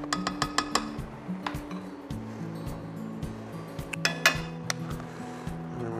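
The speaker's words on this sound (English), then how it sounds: "we're just gonna give that a little stir" A spoon clinks and scrapes against a pot while red wine vinegar is stirred into a sauce, a run of quick metallic taps at first, then softer irregular knocks over a low steady hum.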